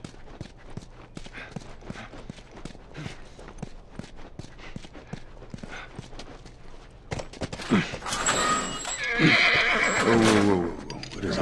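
In The Last of Us, a horse's hooves clop along beneath soft game ambience before a loud, close whinny erupts near the end, mixed with snorting and scuffling movement.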